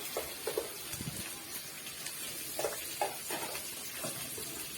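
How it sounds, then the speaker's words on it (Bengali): Cauliflower and potatoes frying in a pan with turmeric, a steady soft sizzle under occasional scraping stirs of a spatula, close and fairly faint. "ফুলকপি আলুটাকে দিয়ে দেবো, দিয়ে খুব ভালো করে এটাকে ভেজে নেব"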